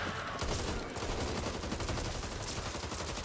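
Rapid shotgun fire in the zombie shooter game Back 4 Blood, a dense loud barrage of overlapping blasts filling the whole moment with no pause.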